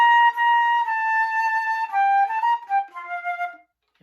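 A solo flute plays the Armed Forces March from measure 49, a clear close melodic phrase of sustained and shifting notes that steps downward and fades out near the end, with no voices.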